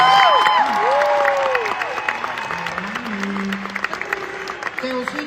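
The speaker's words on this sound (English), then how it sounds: "So please give a massive round of applause to Laura and Amanda and Katie." Concert audience in an arena at a show applauds and cheers as singers are called onstage, broad clapping and crowd noise with whoops and voices, dropping off to scattered claps and talk.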